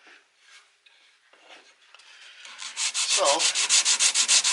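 Flat sanding block rubbed back and forth over a wooden guitar neck headstock, rhythmic scratchy strokes that start soft and grow into loud, steady, evenly paced passes, with a brief word spoken at the start.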